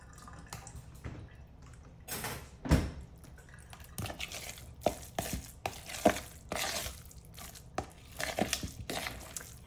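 Vegan egg salad is mixed by hand in a home kitchen, giving wet, squishy squelches and soft slaps in an irregular rhythm, close and moderately loud, with no speech.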